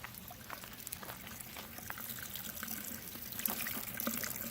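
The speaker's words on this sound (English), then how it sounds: "So the water flows in from the top, but it goes directly to the bottom" Water pours steadily into an earthen bioponic garden bed in a front yard. The trickle and splash are faint but continuous, with small gurgles and drips, and no voices.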